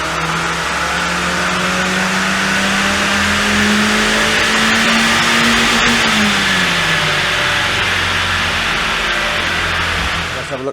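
Mazda MX-5 NC engine revving on a dyno in a standard-versus-modified power run, a steady loud roar climbing in pitch and then falling away near the end, heard close and continuous.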